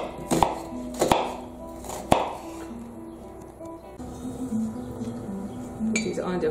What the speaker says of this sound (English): Then we need to cut the onion